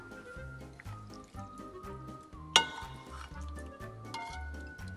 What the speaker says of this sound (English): I'm gonna mix it well.